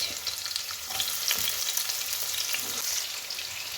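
Onions sizzle and crackle steadily in hot oil with nigella seeds and green chilli, a continuous close frying hiss with occasional stirring scrapes.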